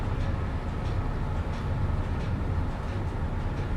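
An empty coal train hauled by a Class 25 locomotive passes in a Train Sim Classic game, a loud low rumble and rolling rail noise that stays steady and close throughout.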